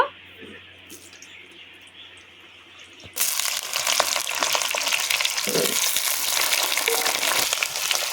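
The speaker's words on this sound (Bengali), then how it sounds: "তেল গরম হয়ে গেছে, পটলগুলো ভেজে নেব।" Pointed gourd (potol) pieces hit hot mustard oil in a kadai and burst into a loud, continuous sizzle partway through, after a quieter stretch of faint kitchen sounds.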